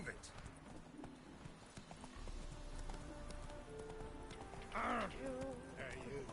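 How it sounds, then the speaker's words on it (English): Hooves of Roach, a horse in The Witcher 3, clip-clop steadily at a run, then a loud whinny cuts in near the end, with game music and speech mixed underneath. "Good thing I have Roach. Roach, come here."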